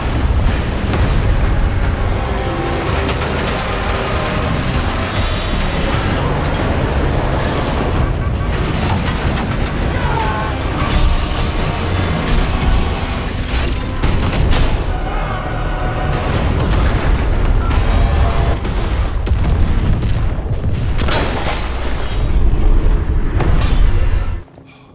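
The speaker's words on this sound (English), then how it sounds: "He jumps out seconds before the machine explodes." Overheating stone crusher machine exploding, a loud sustained roaring blast with rumbling bursts and debris noise that cuts off abruptly at the end.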